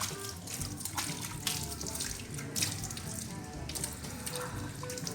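Water splashes steadily over a dirty car being rinsed at home to loosen hard grit, a continuous close wash with scattered drips and spatters and no voices.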